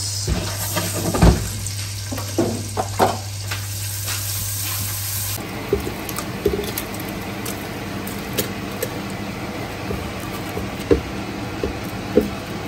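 Sizzling and crackling of garlic frying in a hot pan, with scattered pops and clinks of a utensil stirring over a steady hiss.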